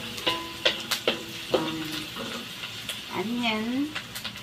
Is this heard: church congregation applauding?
no